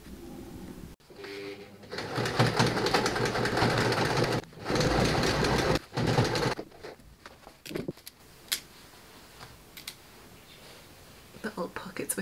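A sewing machine runs a basting stitch on men's jeans being upcycled, with loud close whirring bursts of a few seconds each, separated by brief pauses and lighter stitching runs, and faint handling noises at the end.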